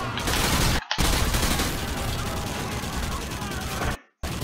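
Loud, dense automatic gunfire fills a Call of Duty: Modern Warfare 2 firefight almost without pause, broken by two brief dropouts, with shots and impacts layered over a busy battlefield mix.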